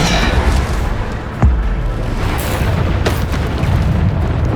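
Bombarder spell explosions in Hogwarts Legacy, with a sharp loud boom near the middle and further bursts over a constant rumbling backdrop of game effects.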